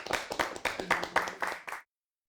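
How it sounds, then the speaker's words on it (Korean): A short burst of clapping from a small group on a Korean TV competition show, uneven and close, with voices and exclamations mixed in before it stops abruptly. "박수."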